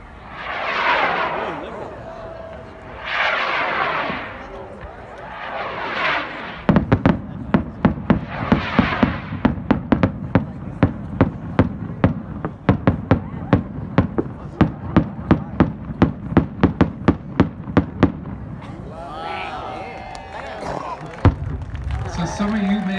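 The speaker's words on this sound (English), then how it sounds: "it's a flight of 4 rockets, each with a Hummer and report headers" A flight of four firework rockets, each topped with a hummer and a report header, whooshes up in rising swells, then a long run of rapid, sharp crackling bangs and pops, loud and outdoors, with a person talking near the end.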